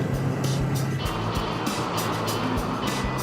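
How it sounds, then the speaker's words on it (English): A Jeep rolls slowly through soft beach sand near Indian Head, its engine a steady low drone with dull thumps and rumbles and a little wind. "so to get going again, I'm just going to turn the wheels over nice and slow"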